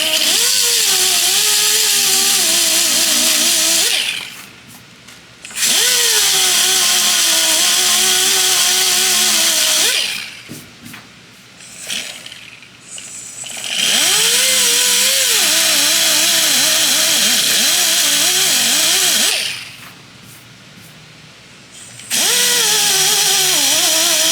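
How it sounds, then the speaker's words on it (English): Abrasive blasting on bare metal of a 1971 Chevy Blazer body before welding, a loud steady hiss in three long bursts with brief quiet gaps between them, no talking. "I'm going to blast these real quick just so I can get good penetration for the welding"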